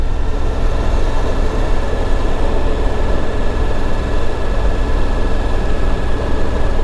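Suzuki V-Strom motorcycle engine rumbling steadily while riding at speed, a loud continuous low drone with wind noise, close to the microphone and unbroken throughout.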